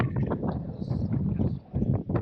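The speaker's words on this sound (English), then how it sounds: "Gosh, this wind." Outdoor wind buffeting the microphone somewhere in Portugal, a heavy low rumble that rises and falls in gusts. It is loud and continuous for the whole stretch.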